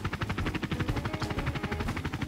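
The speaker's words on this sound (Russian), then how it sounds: "Блин, какой-то пацаны вертолет бракованный нам продали." A helicopter flies in the video game Garry's Mod, its rotor beating in a steady, rapid chop under a constant engine whine. The sound stays close and loud throughout, with no voices.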